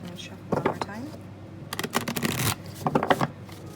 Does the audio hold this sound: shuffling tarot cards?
yes